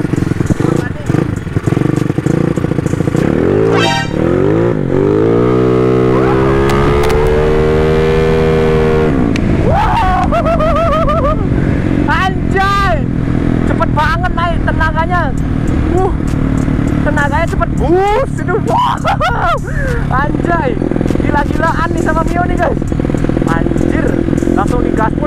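A racing-spec Yamaha Mio motorcycle revs hard, its engine pitch climbing and falling in loud repeated bursts, up close, with people talking over it.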